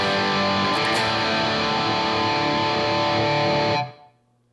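Distorted electric guitar chord through a Peavey 5150 amp rings out with a roomy garage reverb wash, sustaining loudly for several seconds before cutting off sharply into a short fading tail.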